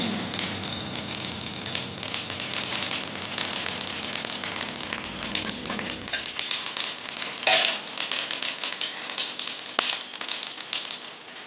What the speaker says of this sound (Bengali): দেখুন কালো জিরে দিচ্ছি সামান্য